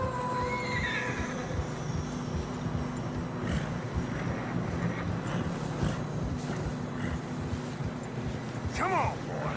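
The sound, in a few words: horse neighing in video game Red Dead Redemption 2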